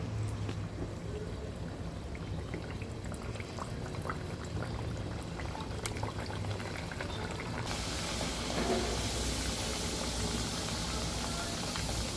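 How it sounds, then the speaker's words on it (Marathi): Puris drop into hot oil and fry with a steady broad bubbling hiss that grows louder and brighter partway through, over a continuous low hum. "तेल आपलं तापलेलं आहे, त्याच्यामध्ये या पुऱ्या सोडूया."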